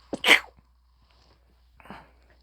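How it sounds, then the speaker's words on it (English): A single sharp sneeze bursts out close to the microphone, followed after a pause by a softer sniff or breathy exhale in an otherwise quiet room. "And I think I'm going to sneeze."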